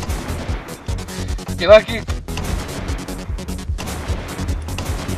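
Rapid gunshots from the multiplayer shooter game Screencheat, a burst of sharp cracks with one louder blast in the middle, over game music and players talking.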